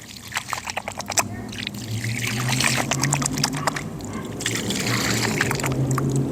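Water pouring out and trickling after storm damage from Hurricane Beryl, a steady close splashing flow running under a low hum, with scattered clicks and brief voices nearby.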